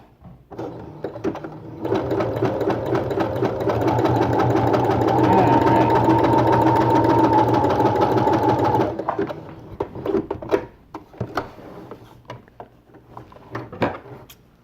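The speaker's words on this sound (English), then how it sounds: "this is like the standard size of a stitch that is on my machine" A sewing machine stitches Heat-n-Bond applique in a steady, rapid mechanical whir for several seconds, close and loud, followed by scattered clicks and handling sounds as it stops.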